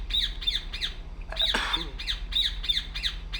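Repeated bird squawks from the stealth game Republique, a steady run of sharp calls about every half second over a low background hum, with one louder harsh squawk in the middle.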